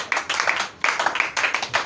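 A church congregation claps and cheers during a service, with dense, loud bursts of applause separated by a brief lull, with scattered voices rising through it.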